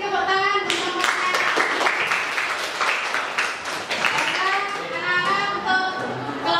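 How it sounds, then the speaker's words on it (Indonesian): A classroom of students claps for a group of classmates, dense hand claps building quickly and then fading, with voices talking and calling out over the applause. "Kita kasih tepuk tangan untuk kelompoknya."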